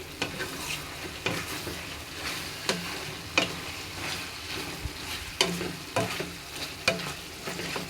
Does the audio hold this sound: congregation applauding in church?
no